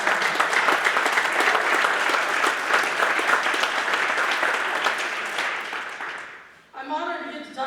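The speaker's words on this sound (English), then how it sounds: "I think that deserves a round of applause" Applause for student athletes at a school signing day, a steady, dense round of clapping from the audience that tapers off near the end before a voice begins speaking.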